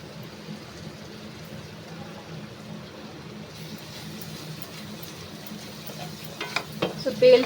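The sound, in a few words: stirring frying aloo matar masala in pan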